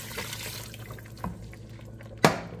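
Water runs from a tap or is poured into a cooking pot to start chicken broth for okra soup, a steady splashing stream with a sharper splash near the end, no talking.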